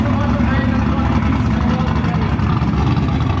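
Rough, rasping exhaust drone from an LS-swapped Nissan 350Z drift car, a steady loud engine note held throughout with no gaps, close to the car.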